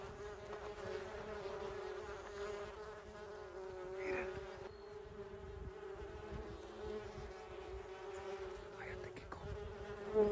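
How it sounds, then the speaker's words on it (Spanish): Bees buzzing steadily near ruins in the Old West, a continuous drone close by with the occasional insect passing nearer, heard alone without talk. "porque esas abejas no me gustan."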